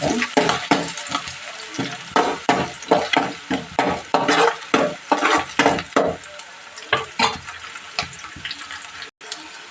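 Green chillies are stirred into a frying aloo chicken kurma, with loud rhythmic scraping strokes of a spoon against the pan repeating about every half second over a constant sizzle, close and vigorous, with no talk.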